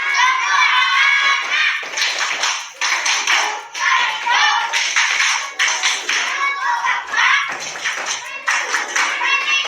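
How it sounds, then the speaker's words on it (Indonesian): Children clap together in a classroom before a lesson, loud rhythmic rounds of patterned clapping broken by short pauses, mixed with their chanting and shouting voices. "anak-anak sebelum pembelajaran saya ajak untuk tepuk dulu agar mereka lebih bahagia dan senang sebelum melakukan pembelajaran"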